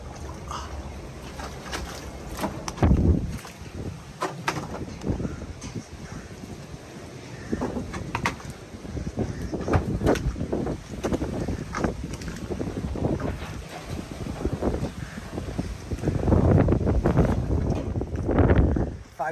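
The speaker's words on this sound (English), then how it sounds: "The wind is not calm, but really quieted down." Hurricane Roslyn wind in Mexico easing near the storm's eye, a steady loud rushing roar with gusty swells and buffeting against the microphone throughout.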